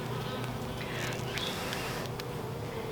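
A steady, dense buzzing of many honeybees close by during a hive inspection, continuous and droning throughout with no talking.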